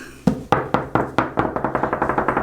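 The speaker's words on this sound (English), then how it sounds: "I don't know if the knock test does anything" Knuckles knock on a printed faux-marble wall surface in a house: about a dozen sharp, close, hollow raps, slower at first and then speeding up into a quick rattling run.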